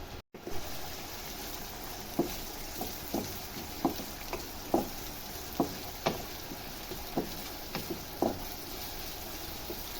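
Ginger and garlic sautéing in hot oil for a mutton tikka karahi, with a steady close sizzle broken by a regular series of light stirring taps against the pan, and no voices.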